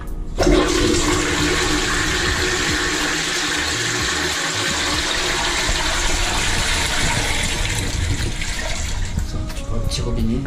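Japanese toilet flushing in an apartment, a loud rushing gush followed by the steady hiss and trickle of the tank refilling through a small tap on top.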